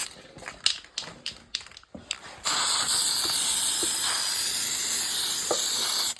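Spray can putting a coat onto the carburetor of a Honda ATC185s three-wheeler, a few light taps and clicks first, then a loud, continuous close hiss lasting nearly four seconds.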